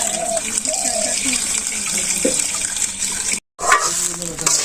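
Water is poured into a pot of chicken cooking with fresh Malabar spinach leaves in a village kitchen, a continuous splashing gush that cuts off briefly near the end.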